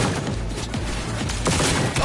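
Rapid bursts of gunfire from a shootout in the video game Cyberpunk 2077, loud and close, repeating in quick volleys with no pauses.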